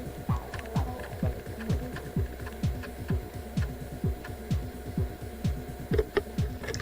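Floppy drive in an HP t5550 thin client writing MS-DOS 6.22 disk images, a rhythmic train of rapid clicking steps and a low mechanical hum, close and steady.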